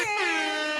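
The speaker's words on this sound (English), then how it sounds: "Air horns and applause." A blaring air horn sound effect, a single loud, brassy, sustained blast heard alone for under a second.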